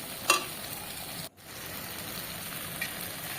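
Green chillies sizzle and fry in hot oil in a pan for a prawn malai curry, a steady close crackle with a brief sharper burst near the start and a momentary drop in the noise partway through.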